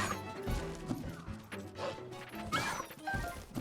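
Wolves scuffle in a Breath of the Wild battle, with yips, barks and thudding hits and crashes tumbling over each other in a busy, loud game soundscape.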